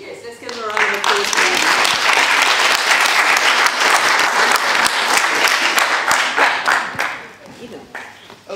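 A festival audience gives a loud, sustained round of applause for brave young performers, with clapping building fast, holding steady for several seconds and tapering near the end, with some voices mixed in.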